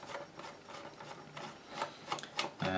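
A screwdriver bit turning triangle-type security screws out of the base of a Tronic NiMH/NiCad battery charger during a teardown, with soft repeated rubbing and ratcheting scrapes, close and fairly quiet, a sharper grinding burst at the end.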